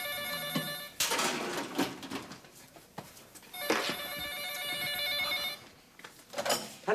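A telephone bell rings in repeated bursts indoors, two long rings separated by a pause, loud and clear with no talking over it.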